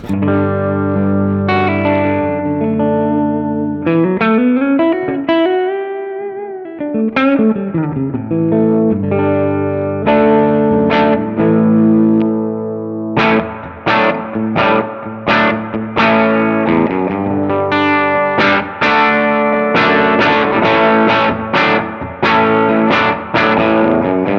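Distorted electric guitar on its humbucker neck pickup, played through a Silktone amp with effects: sustained chords and bends followed by choppy rhythmic strums, loud and continuous with no talking.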